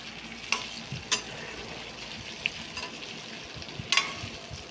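Okra kara kuzhambu, a spicy tamarind curry, simmers with a soft steady sizzle in a pan, broken by a few sharp scraping stirs, with no voices.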